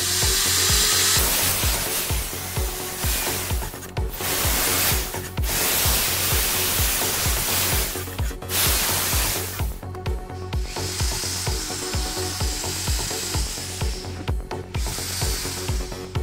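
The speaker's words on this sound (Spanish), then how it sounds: "en aquellas partes donde cuesta el esmeril de banco llegar, utilizamos un taladro" A power drill with a wire brush scours parts of a Chevy brake caliper, a loud continuous grinding whir that runs steadily with a few brief pauses and restarts, with no talking.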